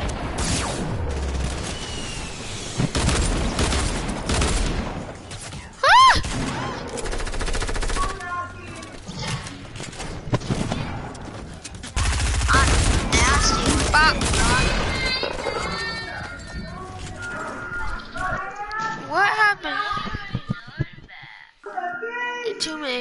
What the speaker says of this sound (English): it's time to use a quad launcher